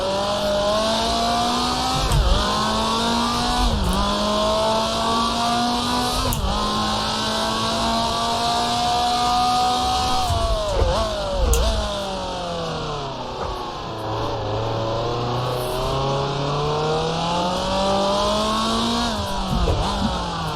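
A 1966 Formula 2 race car in Grand Prix Legends, at the 1966 Pau Grand Prix, screams loudly through rising gear changes, then drops down through the gears with sharp blips for a hairpin before accelerating again, the engine heard alone.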